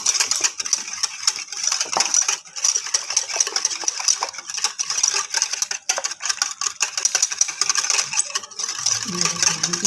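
A spoon steadily mixes salt and sugar into curd for creamy methi dahi barhe, giving a close, continuous scrape and clink against the bowl for the whole stretch, with no talking.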